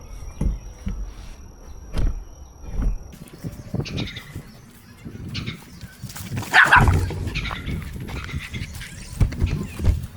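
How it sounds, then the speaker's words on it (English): A dog barks repeatedly over a fence at someone cutting tall grass, sharp irregular barks and yelps at close range, mixed with rustling outdoor noise and some insect chirping. "Dog's been trying to bite me over the fence"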